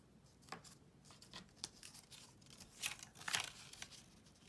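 Scissors snip through paper for a handmade nature folio craft, a few short, sharp cuts and rustles spaced irregularly, faint and close, with no talking.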